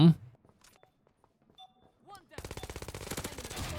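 After a few sparse sounds and brief voice-like bits, rapid automatic gunfire erupts in a fast, even stream of close, loud shots in the anime-style mobile tactical shooter AceForce 2.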